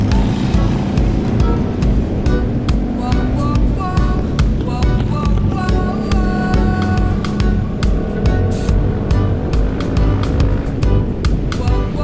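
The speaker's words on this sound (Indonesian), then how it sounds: "Kali ini saya akan coba naik motor melewati jalur Cadas Pangeran." Motorbike riding along the steep, scenic Cadas Pangeran mountain road, with a steady, loud engine drone and rushing wind noise running continuously throughout.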